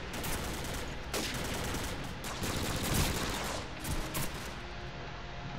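Rapid, dense P90 submachine gun fire in the video game Call of Duty 4, a steady rattling stream of shots with brief bursts and pauses, fairly quiet and continuous throughout.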